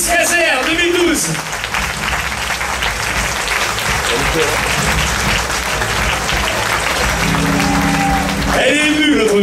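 Crowd applause for the mini Miss Cazeres 2012 at a beauty pageant final, steady loud clapping throughout, with a voice over a microphone speaking at the start and near the end.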